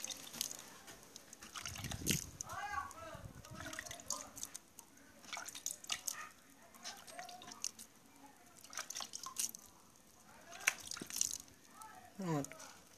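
Water trickles and drips onto soil where an acerola seed has just been planted, with irregular small splashes and droplets patting down over several seconds, close by.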